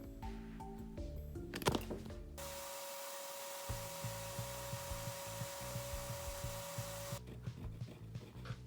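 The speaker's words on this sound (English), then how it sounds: "I'm gonna round them with a belt sander" A belt sander runs steadily while rounding thin plywood sticks, a continuous whirring hum with rhythmic rubbing scrapes as wood is pressed against the belt, preceded and followed by brief handling clatter.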